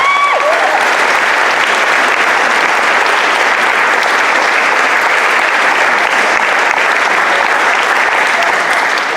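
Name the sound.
audience applause at a jazz concert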